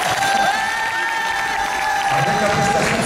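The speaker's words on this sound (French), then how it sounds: "un tonnerre d'applaudissements, s'il vous plaît" A crowd at a cosplay contest prize ceremony applauds and cheers loudly for three seconds, dense clapping mixed with whoops and shouts, nearby and continuous.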